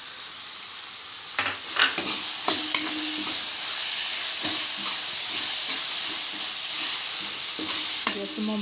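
Ginger sizzles steadily in a pan of hot oil for an Assamese-style chicken dish, along with chillies and crushed garlic. A spoon stirs it close by and scrapes and taps now and then against the hiss.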